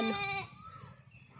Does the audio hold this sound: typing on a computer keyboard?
no